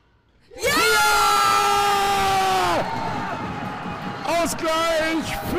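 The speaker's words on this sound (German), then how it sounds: "Ausgleich für den HSV und was für ein Jubel in der Klingenhalle" A handball arena crowd erupts in loud cheering and whoops after an equalizing goal, the roar surging suddenly, holding high, then flaring again with shrill shouts.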